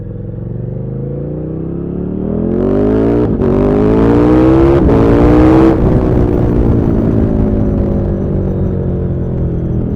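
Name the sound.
KTM 1290 Super Duke R motorcycle accelerating at one third throttle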